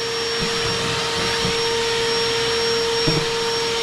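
The cooling fan of a Jackery Explorer 1000 portable power station blows steadily close by, a constant airy whoosh carrying a thin electronic whine, with a few faint knocks.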